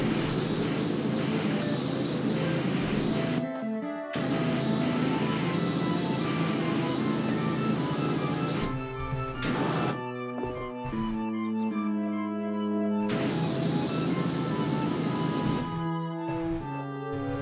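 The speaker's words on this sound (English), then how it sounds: "I just casually spray past the door handle and it cleans. That's how good this current power washer is." Steady, loud hissing spray of a pressure washer in PowerWash Simulator, running almost continuously with a few brief cut-offs, over quiet background music.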